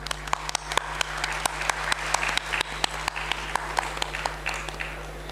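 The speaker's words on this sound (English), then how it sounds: "Please welcome Sir on the stage with a huge round of applause" Audience applause at a professional day event as a guest is welcomed onto the stage, a steady patter of many hands with sharper individual claps, fairly distant, over a constant low electrical hum.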